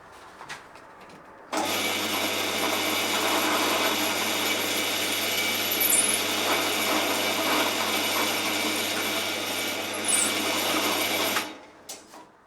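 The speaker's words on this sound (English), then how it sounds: "drill through the exit holes to drill starter holes" A power drill whirs steadily for about ten seconds as it bores starter holes into a wooden guitar neck tongue, starting and stopping abruptly, with faint high squeals from the bit.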